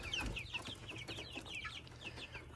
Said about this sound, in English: And of course, more quail here.